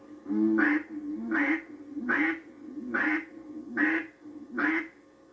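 Six evenly spaced duck-call quacks in a steady rhythm, each a short raspy burst, loud and close with no talking.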